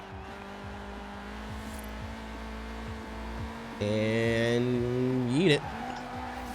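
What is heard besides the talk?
Nissan 240sx engine bouncing off rev limiter in a Forza video game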